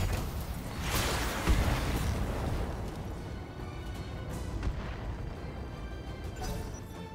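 Mech weapons in the BattleTech video game fire in heavy rumbling booms and whooshes, a dense loud barrage that rolls on throughout without speech.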